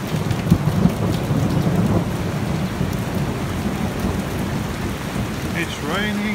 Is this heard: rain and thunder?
yes